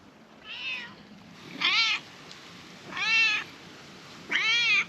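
A cat meows four times at a steady pace, each call clear and nearby, rising and falling in pitch, with quiet background noise between the calls.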